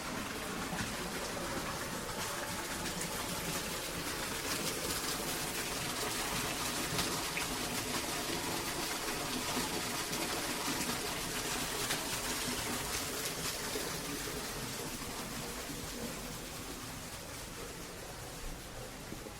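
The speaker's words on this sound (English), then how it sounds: "Here's the waterfall." A waterfall in a botanical garden in Scotland gives a steady, broadband rush of falling water, continuous and fairly loud throughout, easing slightly near the end.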